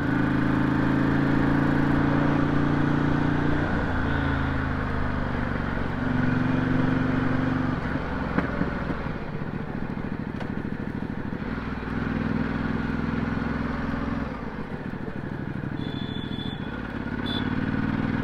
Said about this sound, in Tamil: எக்ஸ் டயாவல் வந்து வண்டி வந்து நல்லாயிருக்கு.